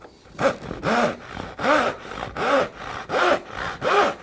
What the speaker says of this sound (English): Nice gentle cuts, and you want to use the entire saw.